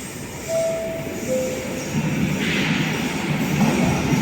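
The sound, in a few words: Trenitalia Frecciarossa high-speed train arriving at Padova station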